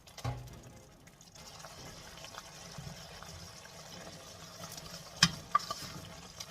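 A spoon stirs gizzard dodo sauce seasoned with nutmeg and salt, soft wet scraping and gentle bubbling close by, with a couple of sharper clinks against the pot.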